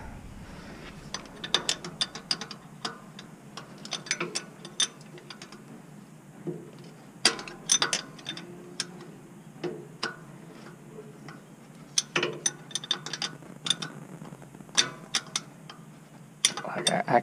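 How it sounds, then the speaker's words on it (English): A wrench ratchets against a rusted, stuck John Deere part, giving quick clicking pawl bursts in uneven spurts across a quiet background, close and sharp, with no talk. "I can't even get this wrench in there to do anything."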